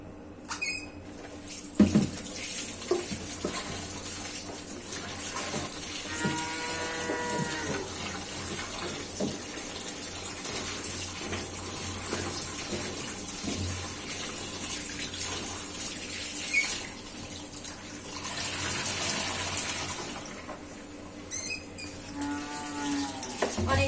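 Running tap water pours steadily into a sink while cut potatoes with their skins on are rinsed, with intermittent splashing and clattering as they are handled under the stream.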